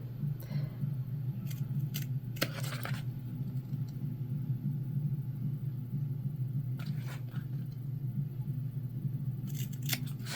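Scissors make short, crisp snips through fabric for a structured sewn bag, several scattered bursts over a low steady hum, close and without talk.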